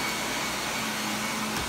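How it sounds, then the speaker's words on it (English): A vacuum cleaner runs steadily in a room of a house being cleaned of urine stains, a loud, continuous broadband whir with a faint motor hum and no talk. "my wife is doing her thing with the vacuum cleaner"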